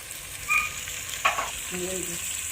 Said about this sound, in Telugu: మనం హైలో పెట్టుకొని ఇవన్నీ ఫ్రై చేసుకుంటాం కదా కలుపుకుంటూ ఉన్నాం క్యారెట్ ముక్కలు